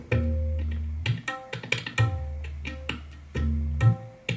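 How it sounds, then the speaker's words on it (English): Resonant tabla strokes with ringing, pitch-bending bass tones and sharp higher slaps, played in a steady, lively rhythm. "the other one was tabla hand drum"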